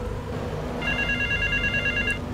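A payphone rings in Grand Theft Auto III: a steady electronic telephone bell tone starts about a second in and continues for over a second over low, rumbling game background noise, with no voices.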